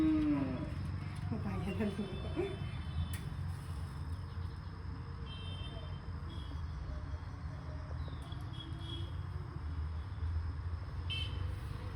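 A cow moos once, loud and close, at the start amid a festive Sankranti gathering, then only a low rumble of background noise and faint scattered sounds carry on without further calls.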